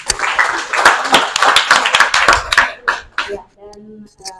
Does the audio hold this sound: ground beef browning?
no